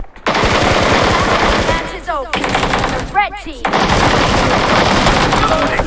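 Loud, sustained automatic gunfire from a PUBG Mobile match rattles in long bursts with a short pause between them, and a few brief sharp effects sound during the gaps.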